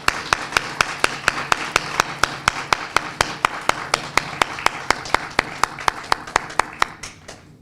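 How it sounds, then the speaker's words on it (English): Steady, evenly spaced hand claps at a meeting for Brother Mark Hughes, about three per second, sharp and close, keeping a regular beat for several seconds rather than forming a dense crowd roar. "Let's give a warm round of applause for Brother Mark Hughes."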